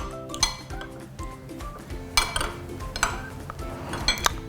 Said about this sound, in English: And just mix that up together.